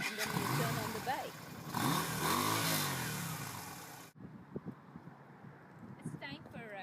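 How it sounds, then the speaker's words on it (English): A 2012 Yamaha V Star 250cc cruiser motorcycle revs loudly up close for about four seconds with a rising and falling engine tone, then cuts abruptly to quieter outdoor noise and faint wind. "Turn on the bike in the morning, you got to take choke, then you have ignition switch, and then you turn on the bike."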